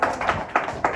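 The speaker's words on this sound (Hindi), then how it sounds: "अपने आप के लिए सब ताली बजाओ" Schoolchildren in a class clap for themselves, a few scattered, fairly soft claps in loose rhythm with quiet gaps between them.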